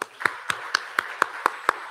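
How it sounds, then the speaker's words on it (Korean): A church congregation claps in unison at a Sunday morning service, giving crisp, evenly spaced beats at about four per second that stay steady and moderately loud with no talk. "예, 박수하겠습니다"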